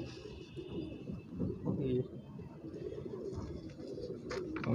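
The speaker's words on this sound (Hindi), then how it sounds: "ये उस्ताद जी के हाथ पे कबूतर है, बहुत लंबी उड़ान है इनकी" A long-distance flying pigeon held in a handler's hand, giving soft low cooing and fluttery murmurs close by, with other pigeons and faint background voices around.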